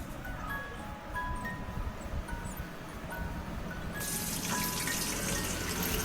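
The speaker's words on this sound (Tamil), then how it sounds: "ஒரு வாணலில் எண்ணெய் ஊற்றி நல்லா எண்ணெய் காய்ச்சதும் கொஞ்சமாக கடுகு, நிறைய வெந்தயம் போட்டால் கசப்பு கொடுத்துரும்" Mustard seeds and fenugreek frying in hot oil in a pan, a steady sizzling hiss that swells louder and brighter toward the end, with faint crackles.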